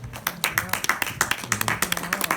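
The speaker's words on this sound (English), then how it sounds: "Clap your hands and celebrate God." A few people clapping in a quick, fairly regular rhythm, sharp close claps with some voices mixed underneath.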